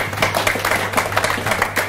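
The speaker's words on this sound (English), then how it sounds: "if we can just have a quick round of applause for our guest today" An audience in a cricket club members' lounge gives a quick round of applause for a guest. Dense hand clapping from a small crowd fills the room in short, uneven bursts.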